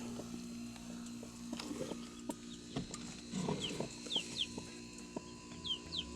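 Broody hen clucking and grumbling in low, soft bursts amid faint background chirps and rustling, quiet and intermittent.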